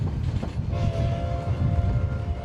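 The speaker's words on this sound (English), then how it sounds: "the train rolls into Osier Station" A train rolls into Osier Station, with a steady, loud rumble of wheels and cars on the rails. A sustained horn-like tone enters partway through and holds over the continuous rolling noise.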